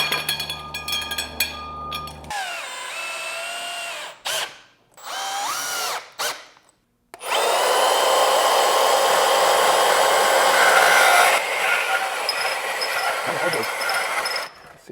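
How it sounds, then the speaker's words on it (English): A bandsaw cuts aluminum stair spindles for cabin staircase railings. Its motor whines and cuts out several times, then settles into a long, loud, steady cutting roar that eases slightly near the end. "I don't wanna ruin a nice blade on the chop saw, so I'm just gonna use my bandsaw."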